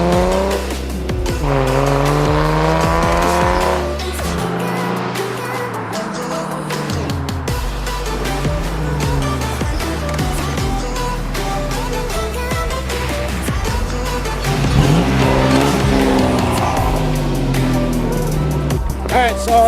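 Ford Mustang V6 with a homemade dual exhaust revs hard outdoors, its engine roaring steadily for about twenty seconds while tires squeal loudly throughout; a voice speaks faintly beneath the noise.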